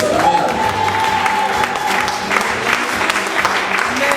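A church congregation claps and cheers loudly for the Lord, a dense, sustained wave of applause and shouting with a held tone running underneath throughout.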